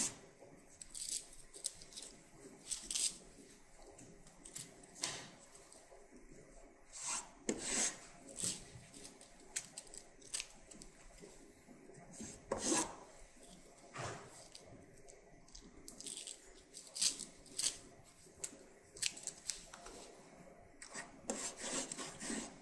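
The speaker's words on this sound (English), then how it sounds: "I'm going to pull this back like so. And you're just going to cut off enough to cover the gap that's there." Drywall tape is pulled out and snipped with scissors at a sheetrock wall hole repair, making a series of dry rasping rubs and short crisp cuts, close and fairly quiet, with no talking.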